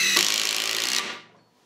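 Milwaukee power tool running flat out in a speed test against DeWalt, a loud steady high-pitched whir for about a second that cuts off and winds down quickly.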